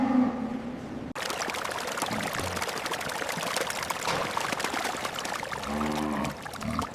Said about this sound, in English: Water flow is perfect.